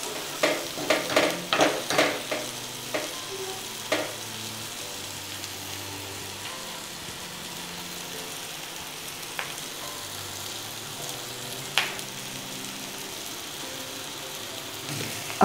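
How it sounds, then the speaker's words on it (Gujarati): Dahi tikhari is stirred in a pan over a low stove flame, a run of rhythmic spoon knocks and scrapes at first, then a gentle continuous sizzle with occasional clinks. "સ્ટવની ફ્લેમ મીડિયમથી પણ ઓછી રાખીને બધું જ આ રીતે હલાવીને ચડવા દઈશું"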